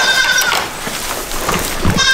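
A goat bleats close by in a short wavering cry, with some faint background noise and a brief beep.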